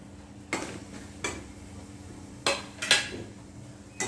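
Spices stirred into egg kothu chapathi in a pan: a handful of sharp metallic scrapes and clinks of a utensil against the pan, spaced irregularly over a steady low background hum.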